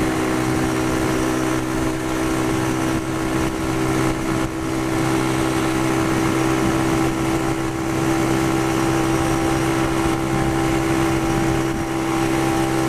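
Pioneer Torro XF125S single-cylinder motorcycle engine idling steadily nearby, a constant, even hum with a strong low tone and no voices over it.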